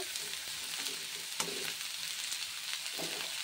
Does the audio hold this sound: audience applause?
no